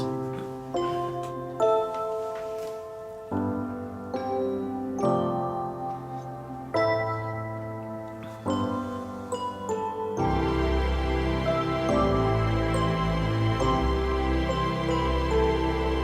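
Orchestral music with bell-like chimes plays in repeated struck phrases over sustained low strings, then swells into a fuller, louder passage.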